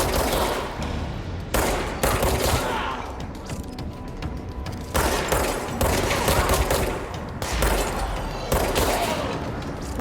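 Gunfire in the Control video game: repeated loud bursts of rapid shots separated by short pauses, close and dominant, with impact thuds and no talking.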